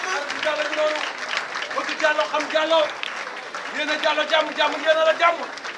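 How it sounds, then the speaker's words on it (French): A crowd applauding at a graduation ceremony, steady clapping layered under loud voices and cheering throughout. "Je veux nommer sous vos applaudissements forts, très forts, s'il vous plaît, Madame Safia Toucham."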